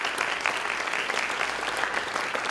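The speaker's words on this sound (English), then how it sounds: "If you could give Mr. Clifton Reed a hand of applause as he comes forward" An audience applauds Mr. Clifton Reed as he comes forward at a civil rights event on Freedom Summer, the clapping dense and steady throughout.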